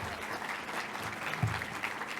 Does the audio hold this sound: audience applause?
yes